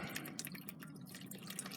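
Coffee infused with mint and catnip is poured through a sieve, making a brief close trickle and dribble of liquid that is fairly quiet and continuous.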